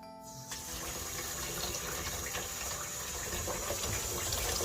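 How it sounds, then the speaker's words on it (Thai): Water poured steadily from a tap into a container, a continuous close gushing and splashing stream that starts abruptly and runs without pause. "ตอนนี้เทได้เลยค่ะ เอาใส่น้ำเข้าไปใส่น้ำนิดหน่อย"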